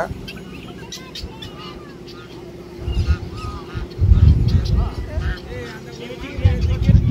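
Geese and ducks among the poultry for sale at Pallavaram's Friday market give a few loud honking bursts from about three seconds on, over steady crowd babble and nearby talk.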